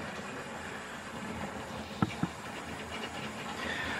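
Hornby model train set locomotive running round its track, a faint steady whirring hiss with light rolling rattle and two sharp clicks midway as it passes over the rails, no voices.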